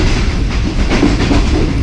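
An early morning passenger train runs on the rails, heard from inside an air-conditioned parlour car as a loud, steady rumble with soft rhythmic clatter and no pauses.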